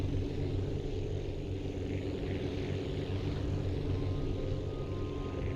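An airplane taking off in a video game, a steady droning engine roar with low rumble holding even throughout, no talking.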